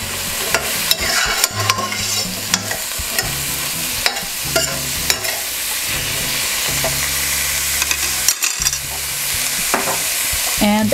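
Mushroom pasta mixture frying in a pan while being stirred, a steady sizzle running throughout with repeated scraping and clacking strokes of the utensil at an irregular rhythm, close and fairly loud, no talking.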